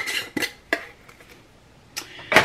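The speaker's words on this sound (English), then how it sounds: "Just gonna get a spoonful like that and sprinkle it in there." A spoon scooping dried lavender and tapping against a container while sprinkling it into a homemade herbal face toner, a few close clinks separated by quiet gaps.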